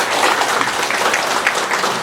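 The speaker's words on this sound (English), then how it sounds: "So let's give them another round of applause." Applause for staff at a Nurses Week event, with a room full of people clapping steadily and loudly throughout.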